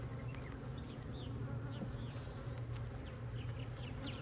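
Honey bees swarming around open hives during an inspection make a dense, steady, close buzz, with individual bees whizzing past and no talking.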